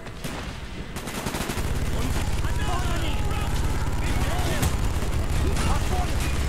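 Minigun fire in Call of Duty: Black Ops, a loud continuous roar that kicks in after a second and runs steadily to the end, under other in-game gunfire and scattered game noise.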